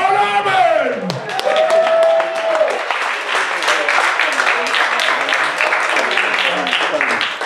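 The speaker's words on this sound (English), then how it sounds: "Let's hear a big round of applause for the squeeze box king himself," Audience applause and cheering greet accordion player John Urban, starting over a loud shouting voice in the first seconds, then steady dense clapping from a crowd that fills the rest of the stretch.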